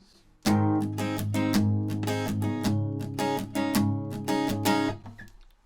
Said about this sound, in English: So on the down strums you can do a palm mute,